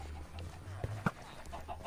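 Chickens cluck softly in Minecraft Bedrock Edition, a few short clucks and pops scattered over a low steady hum.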